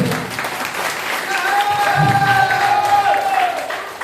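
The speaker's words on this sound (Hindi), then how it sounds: "एक बार भैया के लिए ताली बजाओगे?" A crowd clapping for a man at a gathering, a steady wash of applause that swells in the middle and fades, with a voice speaking over it.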